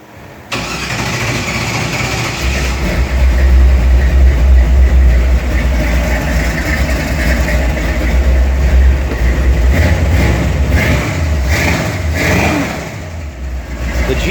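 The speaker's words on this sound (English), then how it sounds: "Jeep sounds amazing." A lifted, stretched Jeep CJ7 with a 450 hp small-block V8 fires up and settles into a loud, rumbling idle with blips of revving, close by inside a dim garage, no talking.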